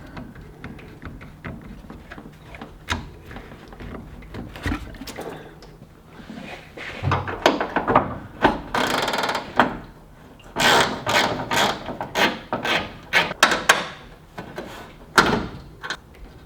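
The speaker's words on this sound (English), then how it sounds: "Next, we're going to go ahead and remove the radiator." Radiator bolts are wrenched out and removed on a BMW 323i E21, giving close metallic clanks, scrapes and knocks that grow busier and louder midway, with no talking.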